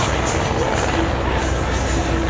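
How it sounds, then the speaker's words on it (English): Replica and original First World War biplanes, including a Royal Aircraft Factory SE5a replica and an Airco DH9, take off at the IWM Duxford airshow, a loud steady propeller engine drone with a voice commentating over it. "Getting airborne to join it, we have the replica Royal Aircraft Factory, C5A, and then original multiple Airco DH9."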